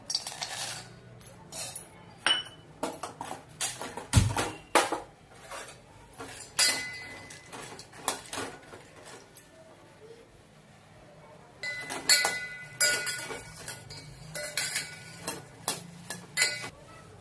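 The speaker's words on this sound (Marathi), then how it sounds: "त्यामध्ये आपण मखाणे हे भाजून घेऊया।" Makhana (fox nuts) roasting in ghee in a metal pot, with a spoon scraping and clinking against the pot in irregular bursts, a quieter stretch in the middle, then renewed stirring clatter.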